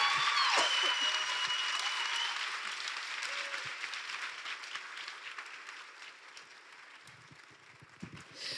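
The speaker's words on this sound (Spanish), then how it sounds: "Excelente, oigan, un aplauso también" Audience at a science talk show with Jorge Drexler breaking into applause, loud dense clapping at first that gradually thins and tapers, with a few scattered claps and faint crowd noise near the end.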